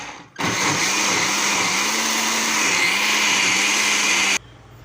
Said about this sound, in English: Now I will blend this dal into a smooth paste.